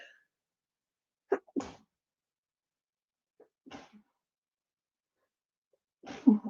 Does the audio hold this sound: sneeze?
yes